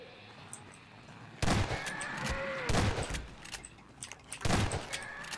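Shotgun blasts in a Gmod horror map game, three loud broadband booms spaced a second or so apart with ringing tails between them.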